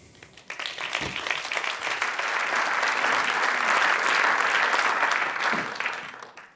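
Audience applause at a 2011 talk on copyright versus a free internet swells quickly into sustained, dense clapping from a large crowd, holds steady for several seconds, then tapers off.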